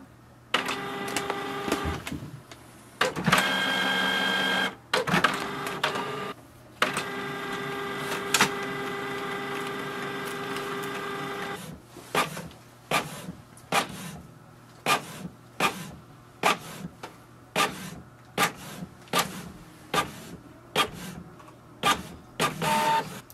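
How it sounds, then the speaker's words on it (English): A Canon MG3600 inkjet printer prints a network configuration page, whirring and buzzing in steady passes for a long stretch, then ending with a series of rhythmic mechanical clicks and thumps. "Once your printer prints the network configuration page"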